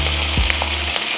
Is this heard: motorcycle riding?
no